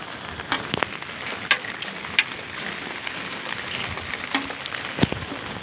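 Rain patters steadily on a city street during a walk home, a soft continuous hiss broken by a few sharper drips and taps nearby.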